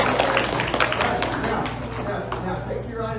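A school audience at an elementary school gathering claps for a few seconds, a brief spatter of hands mixed with excited voices and cheering before fading out.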